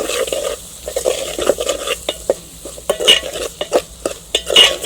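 Country chicken curry with broad beans stirred in a pan, a spoon repeatedly scraping and clinking against the metal over a steady sizzle, close and fairly loud.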